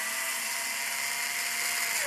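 A drill press runs steadily while decapping brass cartridges in a wooden-plate jig, giving a continuous high whine with a slight rise near the end, loud and alone.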